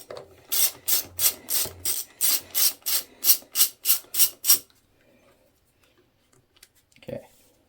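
Rapid ratchet wrench clicking from a 7 mm socket working a fastener on a YardForce 21-inch push mower, about a dozen evenly spaced close, loud bursts in a steady rhythm, then quiet with a brief clunk near the end.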